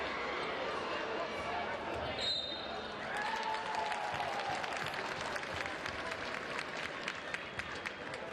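Crowd noise fills a basketball arena as fans roar for Nadezhda during a EuroLeague Women quarter-final against USK Prague, a loud, steady wall of cheering with basketball bounces and court sounds running through it.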